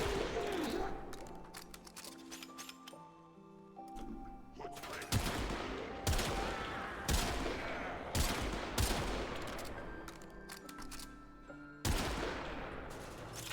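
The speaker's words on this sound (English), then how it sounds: "You're all firing on me illegally." Gunfire from other players in the video game Warframe, repeated bursts of rapid shots and sharp blasts across the whole stretch, loud and dense, with a voice talking under part of it.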